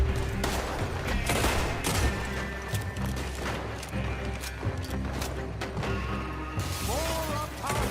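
Gunfire in a Red Dead Redemption 2 shootout near an oil wagon, rapid overlapping shots crackling almost nonstop under a dense, loud mix of game sound and music, with a voice shouting orders.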